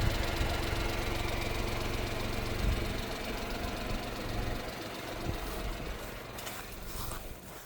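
A Suzuki truck engine running smoothly, a steady close idle with an even low mechanical hum and light rhythmic ticking, fairly quiet and unbroken, with no talking.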